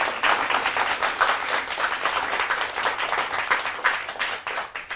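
An audience claps for a correct answer at a school mathematics championship, brisk and lively applause that holds at a fairly loud level throughout.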